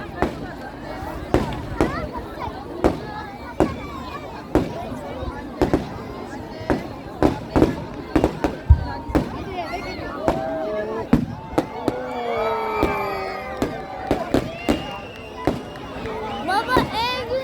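Fireworks display bursting at a Karamürsel celebration: repeated sharp booms and cracks at irregular intervals, some rapid clusters, with crackling and whistling trails, under family voices and crowd chatter.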